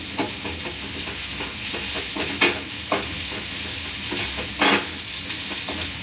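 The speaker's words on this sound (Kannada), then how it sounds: "ಗೋಲ್ಡ್ ಕಲರ್ ಬರೋವರೆಗೂ ಸ್ವಲ್ಪ ಫ್ರೈ ಮಾಡ್ಕೊಳ್ಳಿ ಈರುಳ್ಳಿ ಮೆಣಸಿನ್ಕಾಯಿ." Onions and dried red chillies fry in a pan for a brinjal masala curry, with a steady sizzle broken by a few louder spatters and stirring scrapes. No one speaks.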